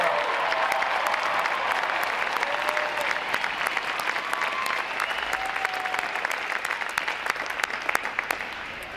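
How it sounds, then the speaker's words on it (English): Steady audience applause fills a U.S. Navy Recruit Training Command graduation ceremony, dense clapping holding at even loudness throughout with faint tonal sounds drifting above it. "Let's give them a round of applause for that outstanding performance."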